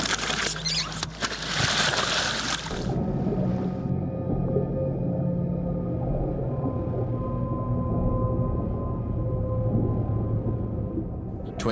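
After a splash of noise, long low moaning tones drone and shift underwater, a fin whale calling steadily from a distance in the Mediterranean Sea.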